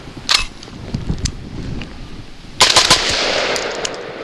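Genesis Arms Gen 12 shotgun firing steel shot outdoors toward a tall berm, sharp loud reports in a quick string followed by a louder blast and ringing echo, with no talking.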